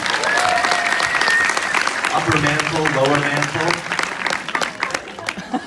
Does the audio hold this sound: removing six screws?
no